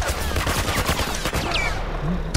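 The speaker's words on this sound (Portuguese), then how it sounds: "O tiro é muito forte" Heavy gunfire rattles in The Last of Us video game, loud rapid bursts of automatic shots, with a voice briefly heard in the mix.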